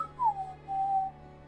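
A short two-note whistle, a falling tone followed by a held steady note, clear and close against quiet background.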